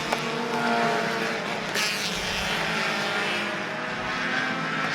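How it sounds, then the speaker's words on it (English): Race cars roaring around the track at Citrus County Speedway in a steady, loud engine drone that swells slightly as the pack passes, with no voices. "Good racing action going on at the front of the pack as Paulton holds on"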